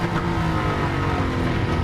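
A Jaguar F-Type R engine on a track lap holds a loud, steady, throaty drone heard from inside the car, with no talking.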